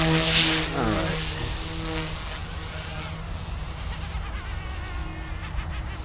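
Goosky S2 Legend RC helicopter in flight, its steady rotor and motor whine droning continuously with a sweeping pitch change early on, fairly near and loud, no voices over it.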